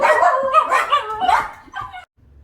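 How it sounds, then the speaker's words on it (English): A dog barks in a quick series of loud, close yaps, then falls silent near the end. "Dog was barking. I had to stop."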